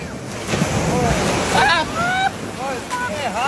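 Ocean waves surging and breaking at the sea with heavy wind buffeting the microphone, while a person talks and exclaims excitedly over the surf.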